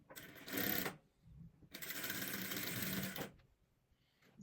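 A sewing machine stitches a seam on a handmade eight-point star rug in two quick bursts of rapid, even needle clatter, a short one then a longer run, close and alone in a quiet room.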